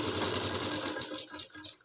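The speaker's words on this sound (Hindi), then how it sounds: "पूरे गोलाई में इसी पट्टी पे सिलाई लगाते जाना है" A sewing machine runs a fast, continuous stitch, attaching a fabric strip around the armhole of a young girl's kurti, loud and close before slowing and stuttering to a stop.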